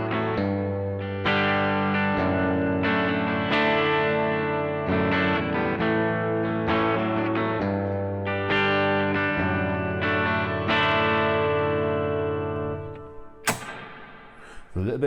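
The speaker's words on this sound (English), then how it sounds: "you can hear it's just a gorgeous, big, luscious reverb, but it doesn't get in the way at all" Electric guitar chords and single notes are played through a Keeley Supermod Workstation pedal set to a big reverb with a little pre-delay, each strum ringing out into long, lush, swelling tails before a sharp final attack.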